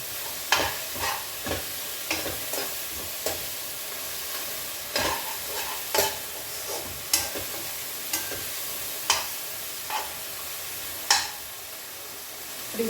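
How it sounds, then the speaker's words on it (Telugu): Spicy chukka kura curry cooking in oil in a pan, stirred with repeated sharp scraping clicks of a spoon against the pan over a steady low sizzle, fairly close and even in rhythm, with no talking. "ఇప్పుడు ఇది ఇది మంచిగా మగ్గిపోయింది నూనెలో"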